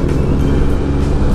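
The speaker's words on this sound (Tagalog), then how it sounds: "ang daming sasakyan" Heavy evening rush-hour traffic on the NLEX highway in the Philippines: a loud, steady roar of many cars and buses passing nearby, with a continuous low engine rumble and no gaps.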